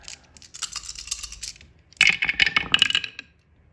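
Four dice clatter onto a surface during a World War I strategy board game, two quick rattling bursts of plastic clicks and bounces, the second louder and denser, with no talking over them.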